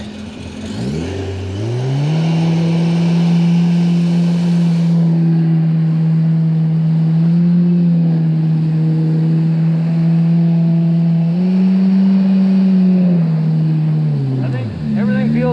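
Yamaha GP1200R jet ski swapped to a supercharged 1800 engine runs loud and close, its steady drone rising as it revs up, holding with small swells in pitch, then easing off near the end.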